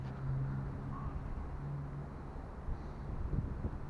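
Gusty wind blows outdoors in Poland, a low rumbling buffet of air against the microphone that stays steady and fairly faint, with no talking.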